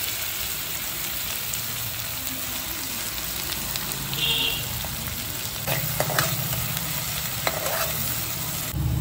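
Chopped onions frying in a pan with caramelizing sugar, giving a constant close sizzle with occasional stirring scrapes and knocks and no talking.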